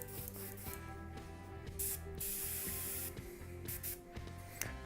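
An airbrush sprays paint onto an old-school Astra Militarum Commissar miniature in close, soft hissing bursts that start and stop several times over a faint steady hum.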